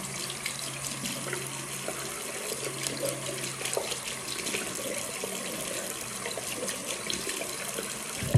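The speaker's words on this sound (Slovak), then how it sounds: "A potom to opláchnem." Tap water runs steadily into a sink while a face is rinsed during a skincare routine, a close, continuous splashing gush lasting several seconds.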